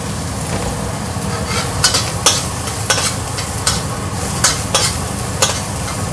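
Garlic and chili frying in a pan with oil, a loud close continuous sizzle broken by regular scraping stirs roughly every half second, no voices.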